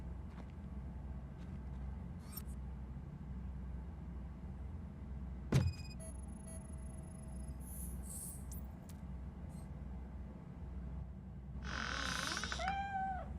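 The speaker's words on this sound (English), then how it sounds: "The cat is fine." A cat meows in a short, wavering cry near the end, heard over a steady low rumble and scattered faint clicks and tones.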